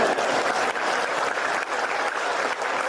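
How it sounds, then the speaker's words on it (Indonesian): A lecture audience breaks into dense, continuous applause, many hands clapping at once in a steady wash of sound that holds throughout. "Mana tepuk tangannya?"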